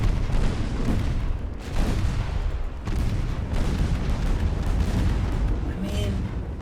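Battleship main guns firing in a naval combat game, a dense, continuous roar of booming gunfire and rumbling explosions, loud and sustained throughout.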